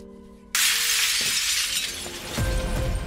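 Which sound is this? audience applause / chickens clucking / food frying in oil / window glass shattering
window glass shattering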